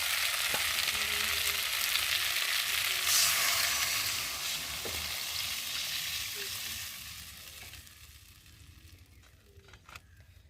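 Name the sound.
stirring cauliflower curry with spices in a frying pan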